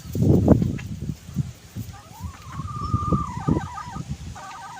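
Hens clucking and calling nearby in a backyard, with a drawn-out crowing-like call and rapid cackles rising over a rustling, noisy background.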